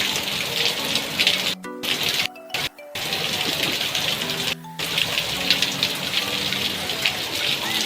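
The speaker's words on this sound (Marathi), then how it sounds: "पावला धोधो चाललाय." Heavy rain pours down in a steady dense hiss, broken by a few brief drop-outs, with a voice speaking intermittently beneath it.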